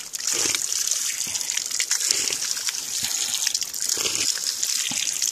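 Cold water pours steadily from a tap or spring spout, a close, continuous splashing gush that never pauses.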